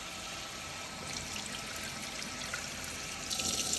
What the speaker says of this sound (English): Run cold water through the opening of the filter.